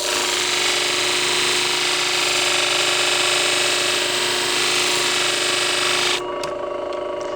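A sharpening machine grinds a shear blade at 50% speed, a steady loud whirring hum with constant tone that drops away abruptly near the end, leaving a quieter residual hum.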